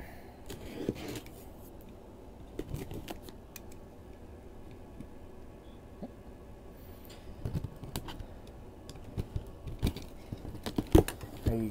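A cardboard shipping box of Funko Pop vinyl figures is sliced open with scattered scratchy cuts, tearing and rustling, with sharper crackles toward the end, all fairly close and quiet.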